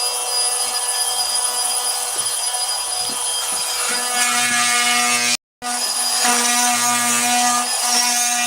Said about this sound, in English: It's called an oscillating saw.